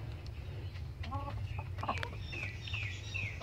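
Several chickens cluck close by, with some bird chirps mixed in over a steady low hum; no one speaks.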